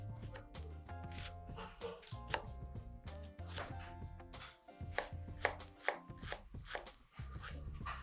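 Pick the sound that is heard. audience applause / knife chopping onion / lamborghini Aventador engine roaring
knife chopping onion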